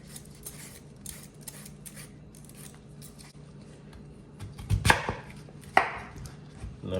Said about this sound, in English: Now cut it just like this in cubes.